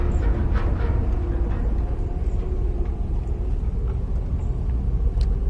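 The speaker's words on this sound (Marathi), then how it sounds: "इकडे वरती गाड्या चालू आहेत" Continuous rumbling traffic from vehicles driving on a road overhead, a dense low drone of passing cars and heavier vehicles with no pauses and no one talking.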